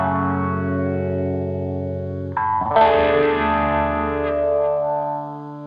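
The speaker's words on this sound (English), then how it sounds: "Now to open the song, we go for this kind of like clean tone" An electric guitar plays a clean tone through a Phase 90 pedal, letting one chord ring and swirl before a fresh strum starts a brighter, shimmering chord that sustains and fades.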